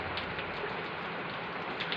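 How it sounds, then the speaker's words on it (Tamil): Steady rain falls across the whole stretch, a dense even hiss of drops pattering on surfaces, fairly close and continuous with no voices. "மழையை பாருங்கள்"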